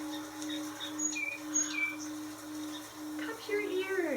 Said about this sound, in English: Yes! The birds are out!